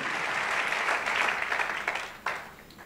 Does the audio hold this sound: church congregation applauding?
yes